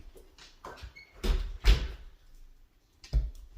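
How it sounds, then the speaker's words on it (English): A house door is opened for a dog training exercise, giving a few knocks and a thudding latch and swing, with a couple of louder bumps around the middle and another near the end. "So we'll open the door."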